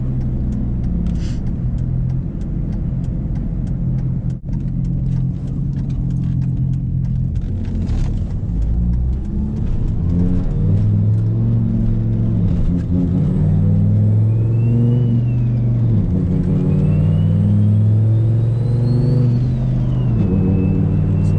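An SRT-10 truck engine, still warming up and with a boost surging issue, rumbles steadily on the highway, with low droning tones that rise and fall as it drives and shifts, loud and close with no talking.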